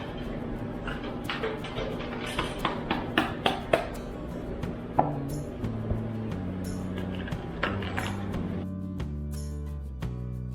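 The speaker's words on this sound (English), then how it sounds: "we have roughly chopped all of our vegetables" A knife chops roughly cut vegetables, including a seeded green pepper, on a board: a quick run of sharp, close taps that thins out over a steady low background hum.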